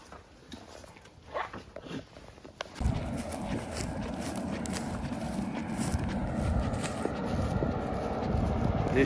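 Goats bolting away from a rural yard, hooves clattering and scuffling on the ground in an irregular patter that grows into a busier, louder rush of movement, with faint background noise.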